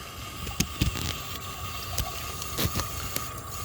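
Water rushing steadily through a 1988 Artesian Atlantis toilet as it flushes and refills, a continuous close gush with a few brief clunks and splashes on top.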